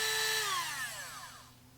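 A battery-powered Dremel rotary tool, just overhauled, winds down from a high whine, its pitch sliding steadily lower as it coasts toward a stop, close and alone.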